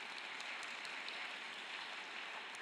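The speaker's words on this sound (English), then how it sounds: "So another round of applause for our illustrious judges." Pitch night audience applauding the judges of a university venture prize, an even, dense patter of many hands clapping that holds steady throughout.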